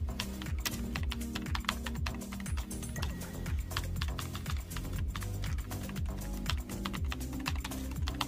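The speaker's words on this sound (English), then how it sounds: "Me personally, I love the old keyboard sounds." Rapid typing on the keyboard of a 1994 IBM ThinkPad laptop, a dense run of crisp, close keystrokes at an even pace with no talking.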